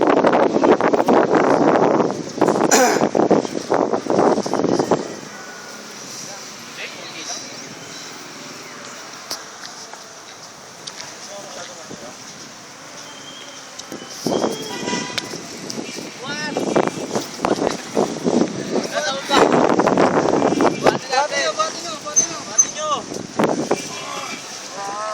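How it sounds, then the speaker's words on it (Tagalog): Wind blowing outdoors, a steady broadband rush that swells and buffets the microphone in loud gusts, with quieter stretches between them and people talking over it. "Sarap pala ng hangin dito eh."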